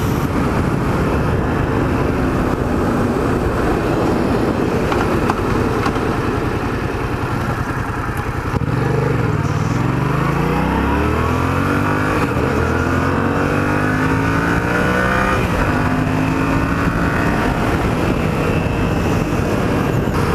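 A Yamaha FZ-07 motorcycle engine drones steadily, then revs and accelerates with rising and falling pitch sweeps midway, loud and close with no talking.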